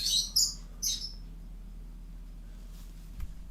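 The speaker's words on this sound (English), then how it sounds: "Birds." Birds chirp in three quick, bright bursts at the start, close and clear, then fall silent over a quiet background hum.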